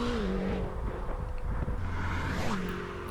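A McLaren GT supercar flies past on the Autobahn, a steady roar of engine and rushing wind with a pitch that climbs and falls as it passes, loud and close throughout.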